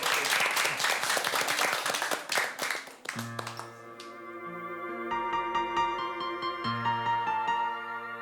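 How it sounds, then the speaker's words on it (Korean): A studio audience at a televised pre-festival duet stage breaks into lively, close applause for about three seconds before it drops away and sustained instrumental music takes over. "박수를 청해서 한번 들어볼게요"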